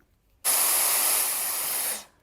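A steady, loud rush of blown air from a Dyson multi hairstyler switches on abruptly, holds constant for about a second and a half, then cuts off.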